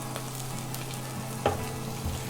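Pieces of beef fry in oil in a pan for beef noodles, giving a steady close sizzle broken by a brief clatter or stir.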